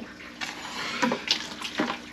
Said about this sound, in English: I'm gonna fill the bucket up, got the hose here